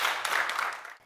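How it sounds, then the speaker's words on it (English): A brief burst of audience applause for dermatologist Dr. Ayesha Akinkugbe on a skin care talk show, a soft steady patter of clapping that fades out within about a second. "A round of applause for Dr."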